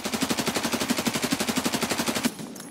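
Sustained automatic weapon fire in the video game Escape from Tarkov, a rapid, even burst of roughly twenty-five loud shots lasting about two seconds, then a brief tail.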